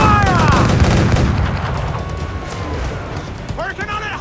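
Ship cannons fire in a naval battle in Assassin's Creed IV: Black Flag, heavy booming blasts and rumbling gunfire that fade midway, with shouted voices and music over the action.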